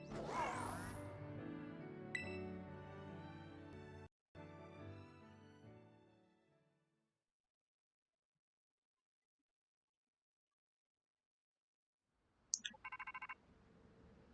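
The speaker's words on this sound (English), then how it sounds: "you get a phone call?" Phone-style ringtone from the Pokémon Violet video game, a bright melodic chime that plays loudly, stops for a short silence, then returns as a short electronic ring near the end.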